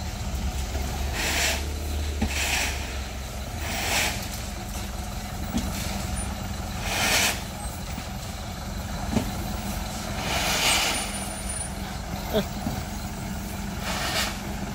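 A Fuso diesel truck's engine runs at idle in a long traffic jam, a steady low drone with occasional pulses and hissing air releases, while people talk nearby.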